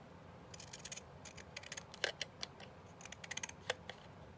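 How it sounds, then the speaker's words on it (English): Scissors snip around the edges of a 7-inch paper tag, a close series of crisp, irregular cuts with brief pauses between them, heard alone with no talking. "I did like the way that looked when I cut it around the edges"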